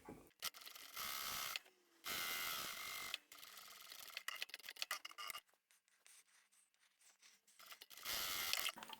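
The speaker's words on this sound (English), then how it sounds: "I'll stitch that together and then sew up the bottom, leaving an opening, and then do the other side." A sewing machine runs in several bursts of steady mechanical stitching along the side seam of a scrap-fabric tote bag lining, with pauses and clicks in between and no talking.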